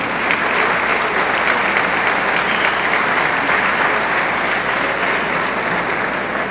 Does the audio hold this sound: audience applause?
yes